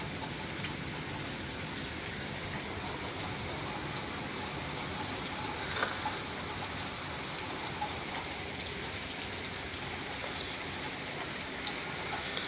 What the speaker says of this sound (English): While it's raining like that